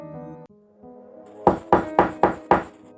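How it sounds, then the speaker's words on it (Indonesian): Five evenly spaced, loud knocks strike a wooden house door, each a sharp thud with a short decay, preceded by a faint tonal hum. "Beberapa kali Ed dan Kom bergantian mengetuk pintu"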